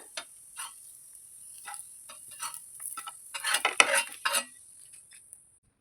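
Chicken sausage pieces fry in butter on a tawa, giving a soft sizzle with light scraping and clinks of a utensil that grow busier and louder near the end, with no voices.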